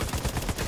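Fast automatic gunfire in the video game The Division 2, a rapid rattling string of shots that is moderately loud and continuous over a brief moment.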